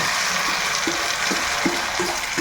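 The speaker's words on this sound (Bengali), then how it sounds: "এখন কিন্তু এই যে মাখানোটা এর মধ্যে পুরোটাই ঢেলে দেব" Noodle mixture poured into a lightly oiled frying pan hisses in a steady, close sizzle, with a few soft knocks and scrapes along the way and no talking.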